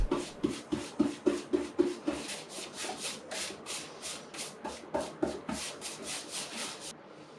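A paintbrush strokes red paint onto a piece of furniture from top to bottom, making soft rhythmic scratchy swishes, roughly two per second, close and quiet without any speech.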